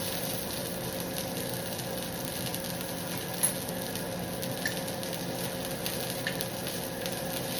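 A ribeye steak sizzles steadily in a skillet over lowered heat, a constant close frying hiss with occasional small pops and crackles.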